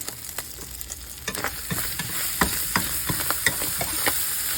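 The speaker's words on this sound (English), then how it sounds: "This is called a chopped cheese, so you're supposed to chop that cheese up in that meat." Ground meat and cheese are chopped and mixed on a hot griddle with a spatula, giving a steady sizzle broken by sharp, irregular metallic taps and scrapes, close and without speech.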